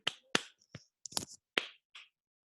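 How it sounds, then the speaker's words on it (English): Body percussion of finger snaps and light slaps on the body, a handful of crisp, separate hits spaced irregularly and close to the microphone in a quiet space, with no one talking. "Body percussion."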